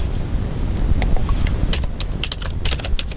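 Java code being typed on a computer keyboard: a quick irregular run of crisp key clicks, some in tight bursts, over a steady low hum of room noise.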